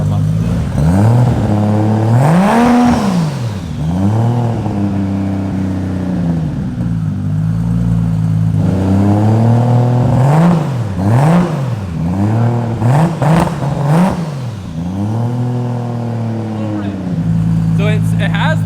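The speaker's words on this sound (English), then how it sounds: "So it has the same like little raspy like muffled pitch as the 34." A Toyota Chaser with a 2JZ engine revs repeatedly, each rise and fall of pitch carrying a raspy, muffled exhaust note, up close and loud, with brief talk between revs.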